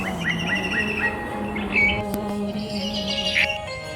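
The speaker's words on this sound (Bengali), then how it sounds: "মধ্য দুপুরে পাখি মাঝে মাঝে ডাক দেয় গাছের ডালে" Birds chirp and call from tree branches at midday beside a village canal and crop fields, quick repeated tweets followed by scattered brief calls at moderate distance, with no voices.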